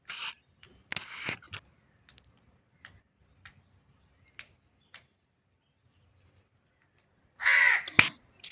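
Crows caw harshly near a peacock (Pavo cristatus). There are short bursts of calls at the start, faint ticks through a quiet stretch, and then a loud, close run of caws near the end.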